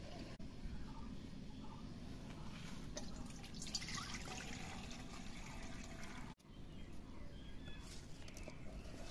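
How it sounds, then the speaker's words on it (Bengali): Polao rice being washed in water by hand, with continuous soft sloshing, dripping and trickling close by, a brief pause midway, and faint bird calls in the background. "আমি এই চালগুলো ধুয়ে নিচ্ছি।"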